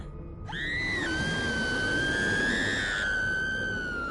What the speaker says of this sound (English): She's gonna scream.